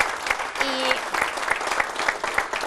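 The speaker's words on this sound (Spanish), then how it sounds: "démosle un aplauso a Héctor, Héctor, Francisco y Miguel" An audience at a municipal administration seminar applauds for Héctor, Francisco and Miguel, a steady, fairly loud roll of clapping with a voice briefly heard over it.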